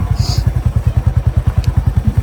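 A motorcycle rides along an unpaved dirt road, its engine thumping in a steady, fast pulsing rhythm. It is loud and close, with a brief rattle in the middle and no voices.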